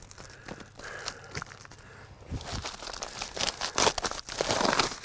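Plastic vapor barrier and insulation being torn out of a ceiling during a bath exhaust fan install: irregular crinkling, crumpling and ripping bursts of varying loudness, close by, growing busier toward the end, with no talk.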